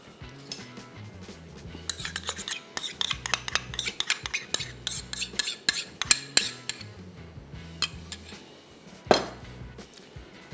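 A metal spoon clinks and scrapes rapidly against a pot while cream is stirred into matar paneer gravy, with busy irregular taps over a low steady hum.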